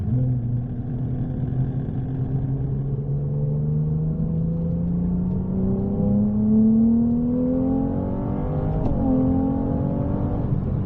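Ferrari 298 GTB rated at 820 horsepower accelerating on the La Ferté-Gaucher race circuit, engine note climbing steadily in pitch through the gears with a brief shift blip, loud and close with no talking.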